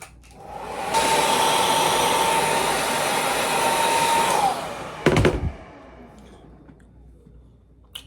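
A hair dryer blows steadily at close range for about three and a half seconds while drying the roots of freshly washed hair after a workout, then switches off with a brief clatter and leaves a quiet room.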